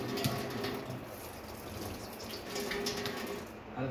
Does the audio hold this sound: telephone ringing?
no